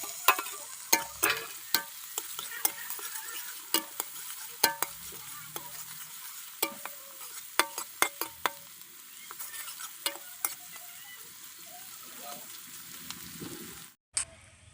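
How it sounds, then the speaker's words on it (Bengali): Chopped onion frying in mustard oil in a pan, a steady soft sizzle under repeated sharp scrapes and clinks of a spatula stirring against the metal, uneven in rhythm, with a brief thud near the end. "এবার পেঁয়াজটা ধীরে ধীরে বাদামি রং না আসা পর্যন্ত ভেজে নিচ্ছি।"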